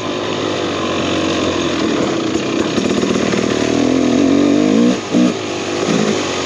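A 2023 KTM 300XC TBI two-stroke dirt bike engine revving loudly up close, a steady raspy drone that climbs in pitch with throttle, briefly cuts off near the end, then snaps back.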